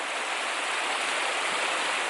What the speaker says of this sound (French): Il joue avec la cascade.